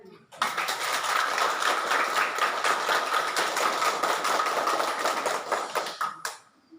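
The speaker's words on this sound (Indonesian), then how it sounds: "Kita tepuk tangan untuk mereka." An audience claps together at a Sunday vocations prayer gathering, a steady rapid patter of many hands that goes on for about six seconds, then fades out.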